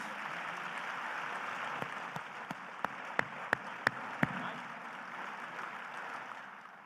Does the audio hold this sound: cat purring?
no